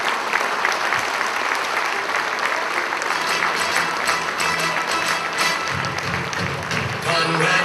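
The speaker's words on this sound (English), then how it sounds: "Big round of applause, everybody." A large audience at a real estate awards ceremony applauds steadily and loudly for the whole stretch, a dense wash of clapping with some crowd noise mixed in.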